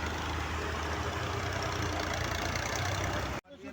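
Tractor engine labouring as it drives through sand, a loud, steady diesel rumble with a knocking edge that drops out abruptly near the end.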